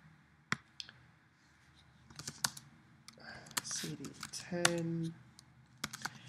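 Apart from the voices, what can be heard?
typing commands on computer keyboard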